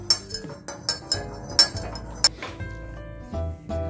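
Spoon clinking against a cup while herbal tea is stirred, a string of bright, sharp taps at an uneven pace, close and fairly clear.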